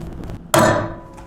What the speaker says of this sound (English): In this case, we'll use blind rivets.